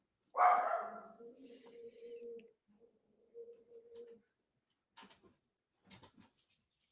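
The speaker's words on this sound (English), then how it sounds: "My two dogs are going to start barking now." Pet dogs inside a home bark at a noise by the door: one loud sharp bark up close, then a few quieter whining, yelping calls that trail off into short faint noises.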